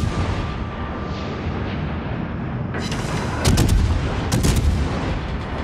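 Light cruiser naval guns firing in World of Warships: a continuous heavy rumble of battle, then sharp salvo blasts near the middle and end, loud and close.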